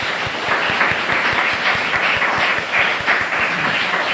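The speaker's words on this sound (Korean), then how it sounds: "큰 박수로 한번 격려해 주셨으면 좋겠어요." Applause from a church congregation at a Korean presbyterian service in Madrid, steady dense clapping from many hands filling the room throughout, with no speech over it.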